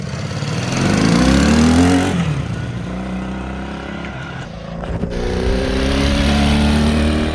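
A 1968 Honda CD175 Super Sport motorcycle ridden outdoors on a fall day, its engine loud and close, rising in pitch as it accelerates, easing off, then pulling again.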